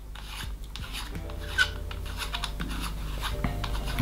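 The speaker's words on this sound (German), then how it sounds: "Dazu habt ihr hier diese Endkappe, die schraubt ihr einfach ab." An end cap is twisted off an airsoft tracer unit, giving close, steady scraping and rasping from threads and grip, with a few small clicks and no talking.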